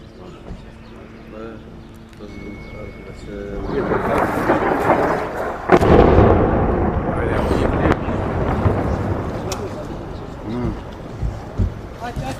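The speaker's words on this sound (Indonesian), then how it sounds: "Kepulan asap dan suara ledakan terdengar di berbagai area kota Beirut" A deep, rumbling explosion in the city of Beirut, Lebanon swells and rolls on, with a sharp blast midway and lingering roar, while a voice speaks faintly at the start.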